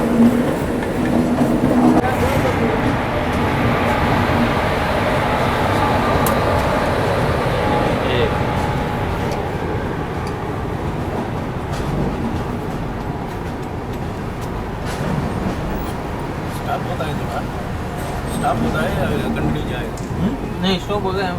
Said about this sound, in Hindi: चेन्नई लोकल के साथ पैरेलल एंट्री हो रही है चेन्नई में।